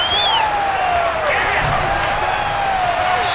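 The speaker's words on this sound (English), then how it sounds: "The crowd getting into it as we come up on a big third down." Stadium crowd in the football video game Madden NFL 22 roars steadily ahead of a big third down, a continuous dense wash of cheering with a rising whistle, beneath a commentator talking throughout.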